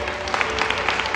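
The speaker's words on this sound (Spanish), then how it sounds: "Denle un aplauso fuerte." Wedding guests in a church ceremony break into steady, close clapping, a brief dense burst of applause.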